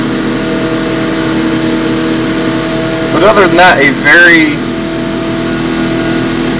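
A Mazda RX-7 rotary engine idles steadily after a cold start following weeks of sitting, a continuous close hum with a brief rise midway as a person talks over it.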